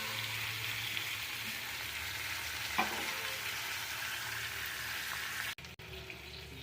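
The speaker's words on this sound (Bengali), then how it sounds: "অল্প তেল দিয়ে ভাজছি।" Steady broad sizzle of food frying in a little oil in a wok, continuous and close, with one brief clink partway through and a short cut near the end.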